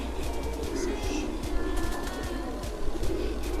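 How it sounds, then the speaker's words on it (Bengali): A pigeon close by gives low, soft cooing under a steady background hum, with faint fluttering and handling noises and no one speaking. "কবুতরটা খুব ছটফট করে"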